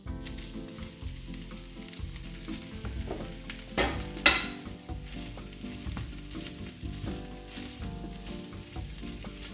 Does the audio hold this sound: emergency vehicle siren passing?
no